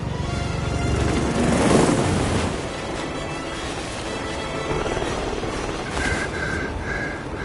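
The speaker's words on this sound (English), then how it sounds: "Alexa Carlisle's helicopter just took off." In the video game Hitman III, a helicopter takes off with a steady, loud, broadband rotor and engine roar that swells briefly, over faint background tones.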